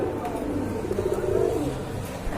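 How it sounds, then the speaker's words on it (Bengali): A pair of large black carrier homer pigeons coo softly in a low, rolling murmur, close by, with voices talking over them. "খুবই সুন্দর কোয়ালিটি ফুল এক জোড়া কবুতর"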